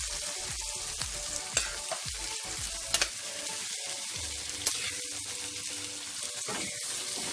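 Saltfish frying in a pan and being stirred, a close, continuous sizzle broken by spoon scrapes and a few sharp clinks against the pan.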